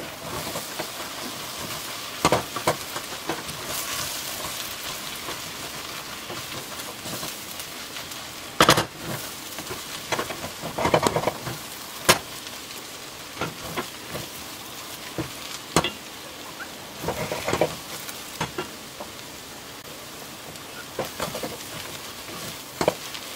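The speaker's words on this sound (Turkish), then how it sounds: "Bir yemek kaşığı dolusu un ekleyelim ve kavuralım." A spoonful of flour roasts in a pan with a steady dry sizzle, punctuated by irregular scrapes and clacks of the spoon as it is stirred, close and moderately loud with no voices.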